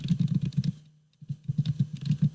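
Rapid clattering of computer keys close by, a burst of typing, a short pause, then more quick keystrokes.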